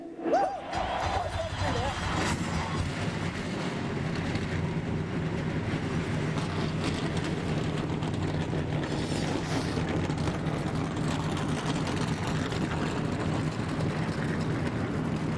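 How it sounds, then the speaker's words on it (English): Several NASCAR Craftsman Truck Series race truck engines fire up together at the 2005 American Racing Wheels 200, settling into a loud, steady, dense mechanical drone with rattling texture that fills the whole stretch. "my fellow drivers, start your engines!"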